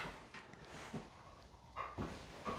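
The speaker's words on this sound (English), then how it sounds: "My puppies are playing." Puppies playing indoors, with a few short whimpers and yips rising out of low scuffling noise, the clearest pair near the end, all fairly faint and close.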